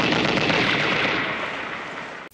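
Gunfire from a 1980s war movie, a dense, loud, continuous roar of shots and blasts filling the whole stretch before cutting off abruptly at the end.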